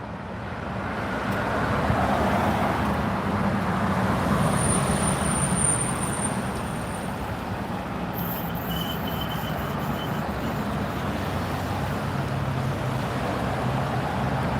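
Steady traffic rolling along a street in the alpine-style mountain town of Helen, Georgia, a continuous broad roar of passing cars heard from the roadside with no talking.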